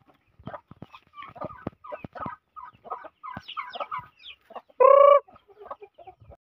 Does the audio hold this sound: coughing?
no